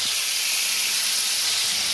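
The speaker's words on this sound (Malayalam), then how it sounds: "ഇനി അത് ചൂടായി വന്നപ്പോൾ നമുക്ക് അതിലോട്ട് ഇനി ചിക്കൻ ഇട്ട് കൊടുക്കാം" Chicken pieces drop into hot oil in a pan and fry with a loud, steady, broadband sizzling hiss that continues without a break.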